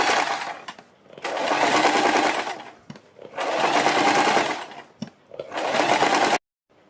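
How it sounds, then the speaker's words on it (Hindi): Sewing machine stitching along a buckram neckline, three steady whirring runs of rapid needle strokes separated by short pauses, close and clear with no speech. "हम बुकरम के बिल्कुल बराबर में पूरे गले के ऊपर सिलाई लगाएंगे"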